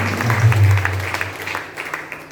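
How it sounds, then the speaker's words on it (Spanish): Applause at a church gathering honoring a brother, a short burst of clapping with a low hum underneath that thins out toward the end. "con fuerte aplauso para el hermano Pedrito."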